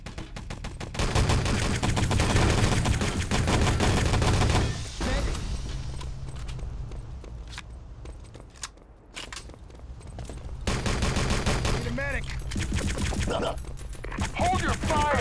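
Gunfire in the online shooter ET: Legacy: loud rapid bursts of automatic fire that come near and loud at first, fade to scattered shots in the middle, then return, with faint game voices underneath.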